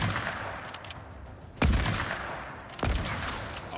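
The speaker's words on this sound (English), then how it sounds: "keep in mind the gun you're hearing is the Reno" A Reno gun firing in the video game Fortnite, two loud booming shots about a second apart, each trailing off into a rumbling echo over busy background noise.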